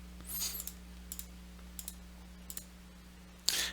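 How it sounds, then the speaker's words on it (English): A computer mouse clicks a few times, quiet and close, with a sharper click near the end, over a steady electrical hum and no talk. "you just have to double click it if you want to type extra stuff"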